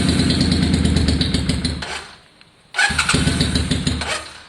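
Farrago 535 motorcycle fitted with new straight pipes cranking and firing up, a loud close rumble that dies away briefly before catching again into a throaty idle.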